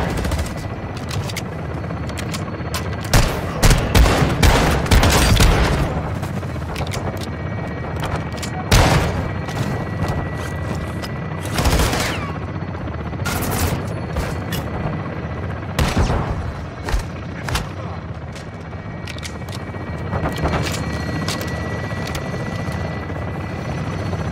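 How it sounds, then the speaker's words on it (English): Strafing gunfire from an attack aircraft's gun run in Call of Duty: Modern Warfare II, loud rattling bursts repeating every few seconds over a constant helicopter rotor drone. "Weapons hot for gun run."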